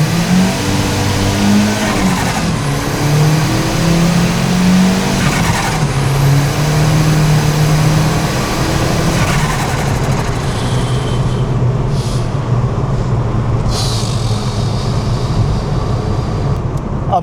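Car engine pulling hard in low second gear at under 20 mph, a loud close rising drone with gear whine and road roar, swelling and easing with throttle, no speech.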